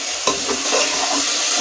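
Bottle gourd pieces dropped into roasted masala in a pan, a loud close burst of sizzling that settles into a steady crackling fry with stirring.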